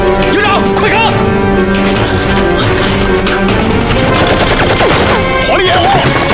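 Rapid gunfire and explosive bursts in a war-film battle scene against Japanese troops, loud and continuous, layered with shouting voices and dense battle noise throughout.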